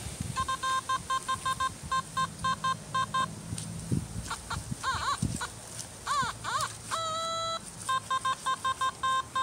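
Metal detector sounding off on a buried target on public land in a historic town, a series of short repeated electronic beeps and double tones, close, over gusting wind noise.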